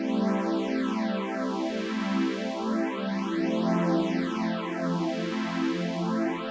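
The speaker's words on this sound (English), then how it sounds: "let's add a phaser just after this wavetable here and have a listen again to what this just does" Synth pad from a wavetable synth, heard alone with a sweeping phaser that moves steadily up and down in slow repeating cycles over a sustained chord.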